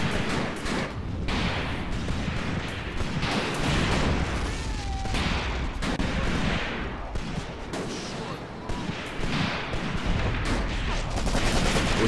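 Continuous dense gunfire from the Graviteam Tactics: Mius-Front battlefield, overlapping rifle and machine-gun shots forming a steady crackling fusillade throughout, with a voice speaking faintly in the mix.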